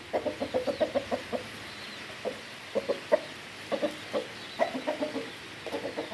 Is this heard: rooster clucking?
yes